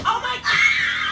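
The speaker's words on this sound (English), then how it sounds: "There's a bunch of screaming in this." People scream in an old amateur video, a short loud shrill burst following a brief laughing, chattering sound.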